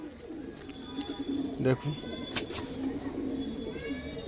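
Pigeons coo in soft repeated low calls around a domestic loft where wide-feathered fancy pigeons are kept for sale, with someone speaking briefly over the cooing.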